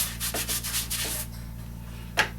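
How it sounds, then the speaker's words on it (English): A medium coarse screen sands parting-agent film off an orthosis in a run of quick rubbing strokes, then pauses before one final scrape, close up over a steady low machine hum. "I'm going to use my medium coarse screen here and just clean up that film"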